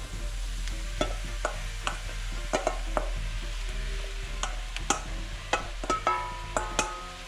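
Garlic and aubergine sizzle in a pan over medium-low gas with a soft steady fry, broken by repeated clacks and scrapes from stirring. Close and fairly quiet, with no talking.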